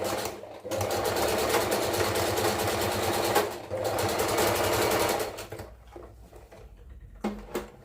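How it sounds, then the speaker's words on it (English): A sewing machine runs a zigzag stitch over elastic in continuous steady bursts, pausing briefly around the middle and slowing near the end, close and fairly loud. "Do a zigzag stitch to hold up the elastic on."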